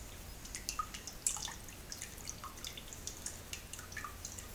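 Drained grain mash for a small-batch all-grain Black IPA dripping from a strainer set over a pan in a kitchen, scattered small close drips and patters over quiet background.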